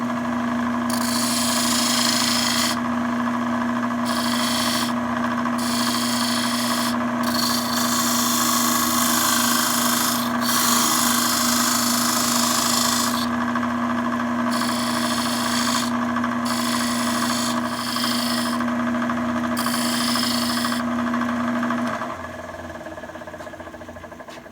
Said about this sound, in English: So I'm going to sand right here. It's starting at 320.